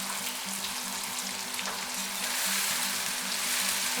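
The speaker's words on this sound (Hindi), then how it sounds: "अब इसमें गोला कबाब ऐड करते हैं।" Gola kebabs fry in a pot of hot oil while a pulao is being made, giving a steady, close sizzle and crackle that runs without a break and strengthens slightly toward the end.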